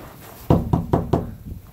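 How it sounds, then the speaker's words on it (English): Four firm knocks on wood land in quick succession, close and hollow-sounding, after a moment of quiet room tone. "Knock on wood."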